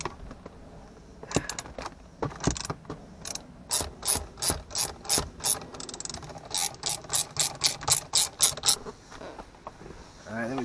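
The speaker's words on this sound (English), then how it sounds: "We have a few 13 millimeter bolts here." A ratchet wrench works 13 millimeter bolts loose inside a BMW E46 interior, with several runs of quick, even metallic clicks, each a near and fairly loud burst, separated by short pauses.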